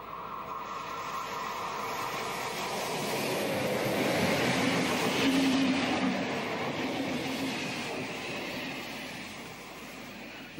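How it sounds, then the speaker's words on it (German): A DB class 103 electric locomotive, in red livery, hauls a train along the Upper Rhine line near Basel, a steady loud rumble of wheels on rails swelling as it passes close by and holding for about ten seconds, with no talk. "Hier kommt kurz vor Basel eine neurote 103 über die Oberrheinstrecke."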